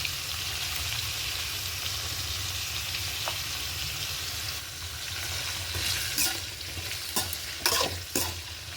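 Curry leaves and salt frying in a pan of eggplant tempering, a close, steady sizzle with stirring, followed near the end by a few sharp taps and scrapes of a spoon.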